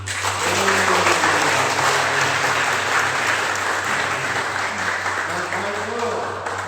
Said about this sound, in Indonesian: Berupa tepuk tangan bagi dirimu sendiri